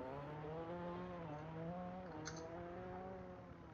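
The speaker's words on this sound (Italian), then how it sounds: "acceso il motore adesso" A race car engine runs at a hill climb event in Erice, heard faintly as a steady, slowly shifting drone with rising and falling harmonic pitch and no talk.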